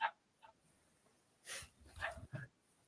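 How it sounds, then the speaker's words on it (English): A small white Bichon Frise barks at the door indoors, a few short, sharp yaps and whimpers in quick bursts, moderately faint, with brief quiet gaps between them. "my door and my dog going crazy"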